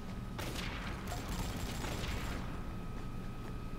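Gunfire in the video game Avatar Star: a dense, sustained fusillade of rapid shots under steady background game noise, moderately loud and continuous, with no voices.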